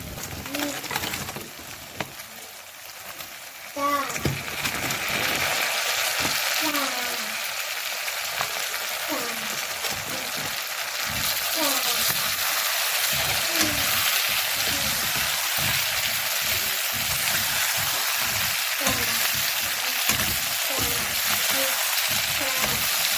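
Pork pieces with salt and turmeric frying in a hot pan, a steady loud sizzle with scraping stir strokes and intermittent bird coos in the background.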